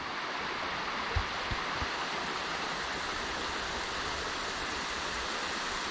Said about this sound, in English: Come to a nice little rock pool here, and a waterfall with a bit of depth.